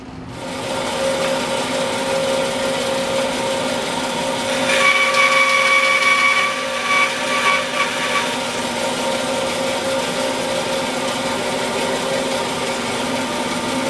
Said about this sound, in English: So I've made my first cut on the first tenon